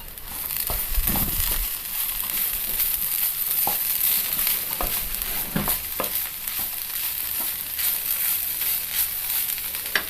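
Green gram and banana flower thoran cooks in a covered pan over low heat, giving a steady, close sizzle with a few dull knocks and crackles near the start and scattered soft ticks throughout, no voices.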